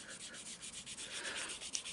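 Soft, quiet rubbing of abrasive over a painted clear coat surface, short back-and-forth strokes in a fairly even rhythm, close up and alone.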